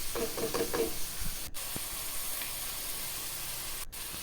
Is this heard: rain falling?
no